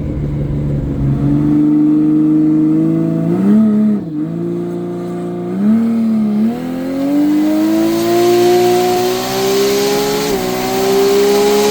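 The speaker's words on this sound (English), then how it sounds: "That's a good burnout." A 2JZ-powered KE70 panel van at a roll racing event does a burnout, its engine droning loud and near as revs climb, dip briefly and rise again, with tyre roar building steadily throughout.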